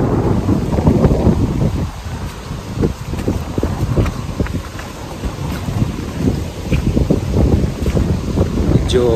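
Gusty autumn wind in Ireland buffets the microphone outdoors, a steady loud rumbling roar with irregular bursts and no clear talk.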